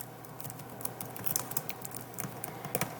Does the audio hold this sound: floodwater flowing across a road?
no